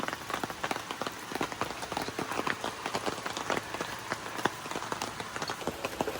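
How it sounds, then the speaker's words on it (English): Steady heavy rain pours down on a campsite, a dense wash of patter with sharp drops striking close by, continuous and loud with no voices. "it's pouring down rain and everything's soaking wet"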